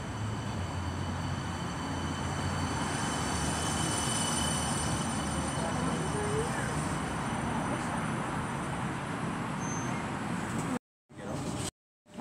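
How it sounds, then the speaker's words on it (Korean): A light rail tram in Canberra pulls into a stop, a steady broad rumble and hiss of the vehicle approaching close by, continuous throughout and cutting out abruptly near the end. "지금 경전철이 들어오고 있습니다."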